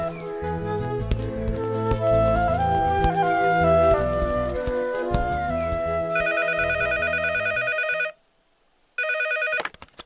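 A telephone rings in a dramatic scene, its repeating electronic ring pattern rising over background music, cutting off briefly before a short burst resumes as a man answers.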